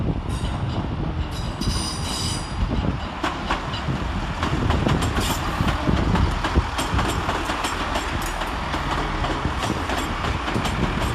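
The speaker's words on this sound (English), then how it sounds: "Arriving to terminate with a Chiltern Railway service off High Wycombe is 165005 and 165030." Two coupled Chiltern Railways class 165 diesel units arrive to terminate at London Marylebone, with rolling wheel clatter, squeals and engine rumble building close by over several seconds.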